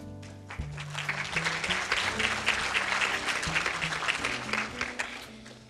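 Pageant audience at a fall festival queen's pageant breaking into sustained, fairly loud applause that swells and holds, with faint low background sound beneath the clapping.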